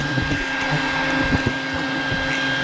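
A vacuum cleaner runs outdoors with a steady whine and a broadband roar, sucking up baldfaced hornets from a nest, with faint ticks and knocks of insects being pulled in.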